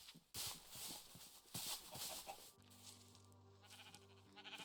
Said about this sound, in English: Well, there is a sheep right there